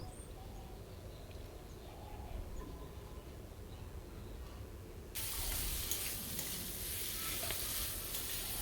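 Fried potatoes tossed in a pan for a prawn curry give a steady low sizzle, joined halfway through by a louder, brighter hiss of frying that holds to the end.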